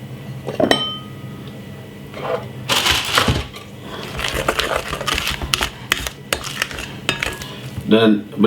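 Sponge cake batter with eggs is mixed in a bowl, a utensil clinking and scraping against the sides in irregular bursts of clatter, fairly close and loud.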